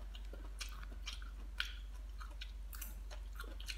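Quiet, close chewing of store-bought chop suey, with soft irregular bites and crunches over a low steady hum.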